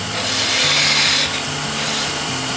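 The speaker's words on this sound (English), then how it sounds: "I take my parting tool and I cut a tenon from the chuck." A parting tool cuts a tenon into a spinning wooden Christmas ornament blank on a wood lathe, making a loud, continuous scraping rasp over a steady humming drone.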